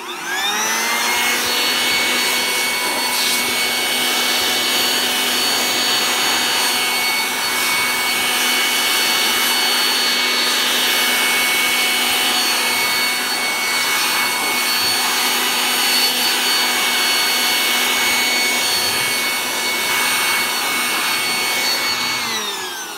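A bee blower runs steadily and loudly at a beehive while frames are being cleared of bees, its motor holding a constant whining drone with many tones for the full stretch, alone with no talk.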